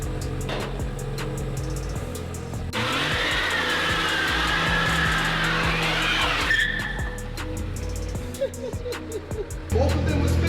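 A BMW 114i converted to M140i spec spins its rear wheels on a wet road, giving a loud, sustained tire squeal over a revving engine, followed by quieter driving noise and clicks.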